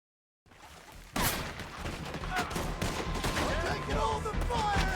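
Heavy gunfire from the Red Dead Redemption 2 game on PC: a dense, loud barrage of overlapping shots erupts after a short silence and continues without pause, with a voice faintly mixed under the shooting.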